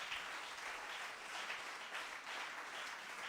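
Church congregation applauding in praise, a steady dense wash of many hands clapping together, filling the space evenly and somewhat distant, with no talk.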